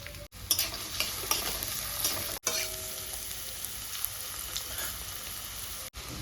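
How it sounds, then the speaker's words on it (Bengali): Sliced onion and green chili fry in a pan with a continuous close sizzle and crackle, broken by a few short silent gaps and faint stirring scrapes. "পেঁয়াজটা হালকা লাল লাল করে ভাজা হয়ে গেছে।"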